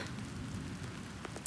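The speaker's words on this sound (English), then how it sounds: "What's with this rain all of a sudden?" Sudden downpour in the video game Aether Gazer, a steady hiss of heavy rain spattering on surfaces, with a few sharper drip accents near the close.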